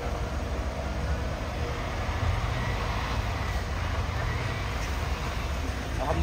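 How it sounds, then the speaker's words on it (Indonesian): A truck trailer reverses on a hill road with busy traffic, heard as a steady low engine rumble with faint rattling, fairly close and continuous, with no clear talk. "Gawat ini, trailernya mundur."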